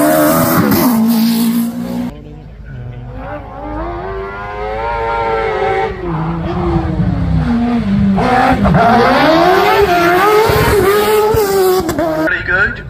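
Hillclimb race car at Craigantlet with a high-revving engine screams through rising and falling gear changes, loud and close, the pitch sweeping up repeatedly as it accelerates past.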